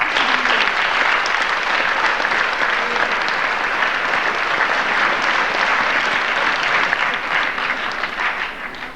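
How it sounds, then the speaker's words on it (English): An audience at a school fall sports awards night applauds the soccer coaches, a dense, sustained wash of clapping from many hands that holds steady before tapering slightly at the end, with no speech over it. "All of these men deserve a round of applause for all they have done."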